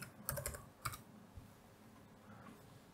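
Short bursts of keystrokes on a computer keyboard, a quick cluster of clicks early on and another near the one-second mark, then quieter faint tapping, close and with no talking.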